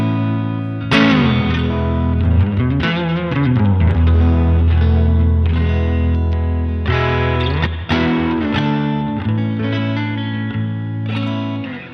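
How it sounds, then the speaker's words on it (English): Sustained electric guitar chords played through a Boss reverb pedal ring out with lush, washy reverb, notes blooming and trailing into each other in a spacious tail. "The Boss Reverb"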